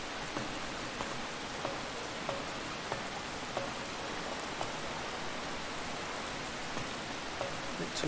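Rain falls steadily in an even, hissing patter, with faint scattered drops ticking sharply now and then against a surface, continuous and unaccompanied by voices.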